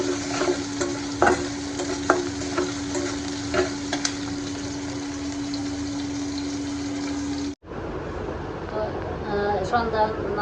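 Shrimp frying in a pan with a steady sizzle and a clear scrape of stirring, plus a steady hum throughout and a brief cut near the end before the sizzle resumes.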